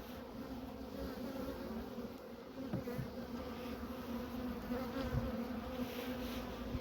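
Honeybees drone continuously around an opened hive during early-season colony insulation, a dense steady buzz close by with individual bees flying past.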